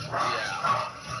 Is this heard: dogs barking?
yes